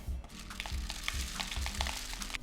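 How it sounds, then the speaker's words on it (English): Dry rice poured into a paper tube rain stick with its bottom end taped shut, making a steady granular rattling hiss with small clicking grains throughout, close and continuous with no talking. "I'm gonna take my rice and pour it in"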